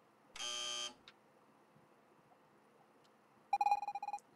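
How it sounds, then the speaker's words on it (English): A short flat electronic buzzer tone from the video game Evoland 2, then after a quiet pause a rapid stuttering series of buzzing beeps, clear and close. "When you hear the buzzer, move to the left."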